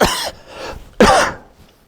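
Two sharp, close coughs about a second apart, loud and dry, in an otherwise quiet Zen meditation hall.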